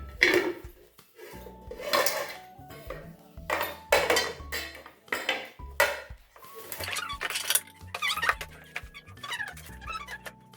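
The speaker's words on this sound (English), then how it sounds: "Non-stick pan. With the cover, it has a cover." A non-stick frying pan and its lid are handled and set down, producing a series of loud, close metallic clanks and ringing knocks separated by brief pauses.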